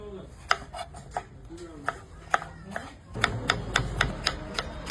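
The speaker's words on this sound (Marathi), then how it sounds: "पण आता बिर्याणीसाठी टमाटे कट करून घेऊ" Knife chopping tomatoes on a cutting board while preparing biryani, a series of sharp, distinct taps at an irregular pace that quicken and grow fuller toward the end, with a faint background hum.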